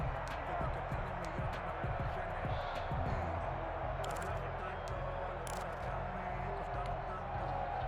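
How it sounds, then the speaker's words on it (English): A football stadium crowd rumbles as a steady wash of noise throughout, with scattered sharp thuds and claps and a swelling murmur during a Buffalo at Tennessee game, while an announcer talks over it. "Crowd getting in it a bit already."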